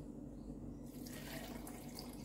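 Water pouring into a drink glass for a pomegranate mylk elixir, a soft, steady trickle that brightens and grows fuller partway through, close up and quiet.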